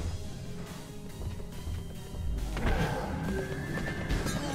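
Horse in the video game Abyss Odyssey, a loud neigh and whinny rising over game background noise, with clip-clop-like impacts and a brief crash partway through.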